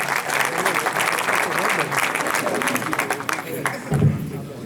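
Audience applause welcoming a poet at a mushaira, the Anjuman Taqdees-e-Adab 12th Mushaira, a steady crowd clapping that fills the room, then thins near the end as a single voice begins to speak.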